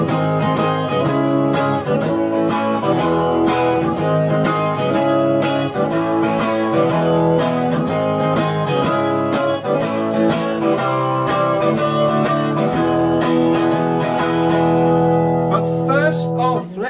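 A guitar plays a song, a steady strummed rhythm with bright chords and a full sound that stays loud and even throughout, without talking.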